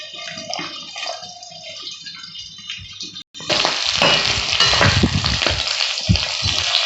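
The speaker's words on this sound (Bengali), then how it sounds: "বন্ধুরা মাছটা ভাজা হয়ে গেছে আমি তুলে নিচ্ছি" Tangra fish frying in hot oil, a soft sizzle at first that turns into a loud, dense, close-up crackle and splutter after a brief pause.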